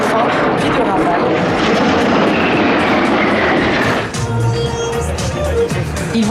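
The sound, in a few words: Patrouille de France jet aircraft flying in display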